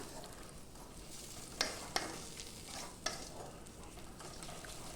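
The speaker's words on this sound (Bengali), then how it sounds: "আরও এক মিনিট মতন বেশ ভালো করে নাড়িয়ে নিলাম" A thick paste of mashed banana stem is stirred in a wok, a quiet steady frying hiss broken by a few sharp spatula scrapes and knocks against the pan.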